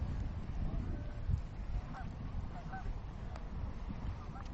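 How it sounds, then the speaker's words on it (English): Geese honk outdoors in scattered, somewhat distant calls over a steady wash of ambient background noise, with several short honks spread across the stretch. "The geese."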